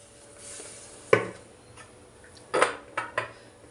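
A metal pot of water being set down on the stove to heat for chow mein, giving a few sharp clanks and knocks close by, with quiet pauses between them.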